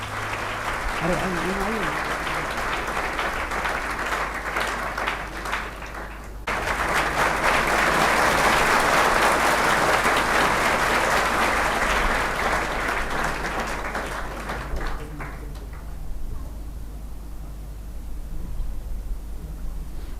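Sustained applause from an audience at a motivational youth seminar in Begusarai, dense clapping that swells louder midway and then thins out, with a voice speaking briefly near the start.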